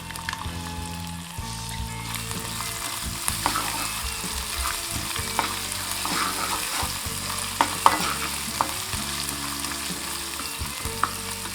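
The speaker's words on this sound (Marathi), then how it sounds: "जिरं थोडं तडतळायला लागलं की गॅस कमी करायचं आणि त्याच्यानंतर हा जो आपण ठेचा केला होता मिरची आलं आणि लसूण हा घालायचं" Cumin seeds crackling in hot oil before a crushed chili, ginger and garlic paste goes into the pan, a loud continuous sizzle with sharp popping spatters and stirring throughout.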